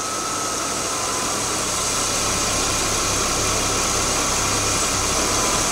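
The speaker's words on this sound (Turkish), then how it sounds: "Şu an gördüğünüz üzere motorun rölanti çalışması bozuluyor." A car engine idles roughly while the VANOS variable valve timing system is activated during a test, producing a loud, continuous, shaky drone with no talking.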